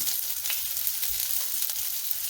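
Shallots, ginger, garlic and green chili frying in hot oil for egg curry, a steady close sizzle with faint crackles and no voices.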